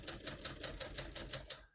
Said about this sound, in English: As you can see, all the keys type nice and none of them skip or stick.